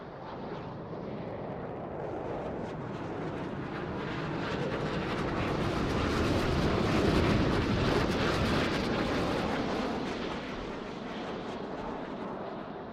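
Jet engine roar from F-18 fighters in a Roblox airshow simulation, a continuous broad rushing drone that swells to a peak around the middle as the solo pair roll inverted, then eases off, with no voices.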